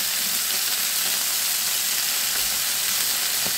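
Pieces of bain fish, a spiny eel, sizzle lightly in hot oil in a pan with a steady, dense crackle and a faint stirring clink near the end.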